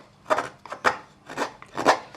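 A wood carving gouge cuts along the grain of wood in four or five distinct rasping strokes, evenly spaced and close, each a short scraping swell, with no speech.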